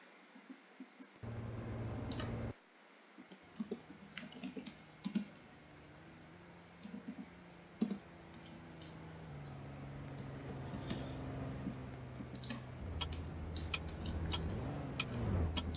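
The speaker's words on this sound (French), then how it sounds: "je suis sur le clavier de mon PC" Steady clicking of keys on a computer keyboard, quick irregular taps at close range over a low background hum, with no voices.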